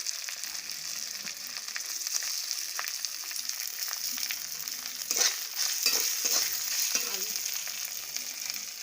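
Fried aatap rice, with turmeric and salt, fries in a kadai for Bengali muri ghonto. A bright, steady hiss carries a few spatula scrapes later on, heard up close with no voices.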